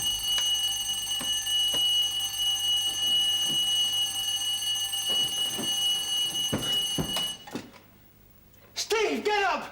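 A mechanical alarm clock rings loudly and steadily for several seconds in a bedroom, then stops abruptly, followed by people speaking.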